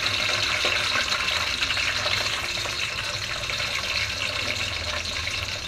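Onions dropped into hot oil sizzle and crackle in a dense, steady hiss that holds evenly throughout, close and fairly loud with no voices over it.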